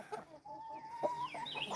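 A rooster in the woods clucks with short, close, fairly quiet calls, then gives a drawn-out crowing note and more scattered clucks.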